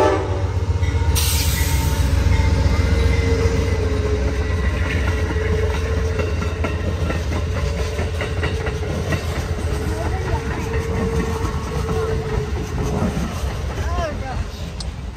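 Amtrak's Vermonter passing through Brattleboro, Vermont, led by Phase 2 Heritage Unit locomotive 130: a loud, continuous roar of rolling cars and wheels with rhythmic clacking, a horn blast near the start, and voices talking over it.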